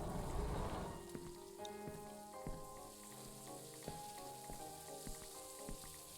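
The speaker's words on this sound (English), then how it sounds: "It's a digital fireplace." A soft, steady crackle and hiss from a digital fireplace in the video game Stifled fills the space at low volume, with faint tonal game ambience layered underneath.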